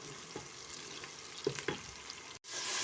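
Garlic, a heaped spoonful, dropped into onions already frying in a pan for a spiced carrot and potato dish; a soft, steady sizzle with a few light stirring taps, fairly quiet and without talk.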